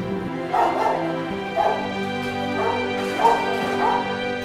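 Dogs at a dog shelter bark in repeated sharp bursts, about five in quick succession, loud and near over a steady droning background.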